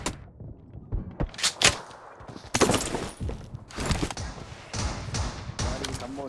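Shotgun blasts from PUBG Mobile gameplay come as several sharp, loud bursts scattered irregularly, mixed with clattering in-game effects and background noise.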